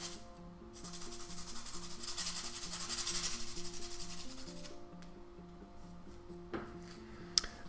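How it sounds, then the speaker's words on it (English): A medium gray soft pastel stick being sharpened, giving a steady close-up scraping and rubbing sound that runs for several seconds, ends, and is followed by a few small handling taps. "I got to sharpen that one as well."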